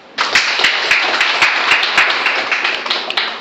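Audience applause at a Success Mall shop-share-and-earn business talk, a steady burst of many hands clapping that starts abruptly and carries on for several seconds with uneven loud claps scattered through it.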